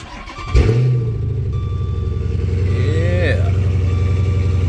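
A Gen 3 HEMI V8 cranks and fires just after a spark plug change, catching with a loud rev that settles into a steady, rumbling idle close by for several seconds.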